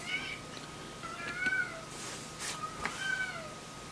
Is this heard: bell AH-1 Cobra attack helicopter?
no